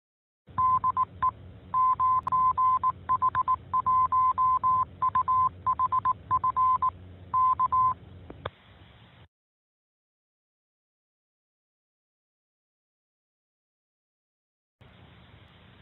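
An amateur radio repeater sends its ID as a rapid string of steady beeping tone bursts over a hissy open channel, then the carrier drops to silence before a brief return of static near the end.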